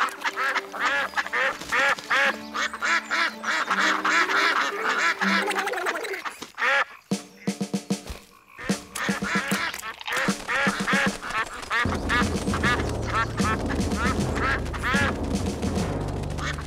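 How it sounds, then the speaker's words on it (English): Cartoon ducks in the animated series Seven Little Monsters quack repeatedly through the scene, with music playing and brief breaks; the quacking is loud and close. "Poor ducks."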